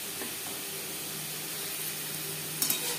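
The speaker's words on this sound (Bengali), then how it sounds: "মাছ ভেজে নেব" Prawns frying over high to medium heat in a pan, a steady close sizzle and hiss with a small clatter near the end, no voices.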